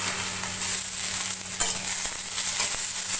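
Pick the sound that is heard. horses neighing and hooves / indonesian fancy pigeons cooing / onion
onion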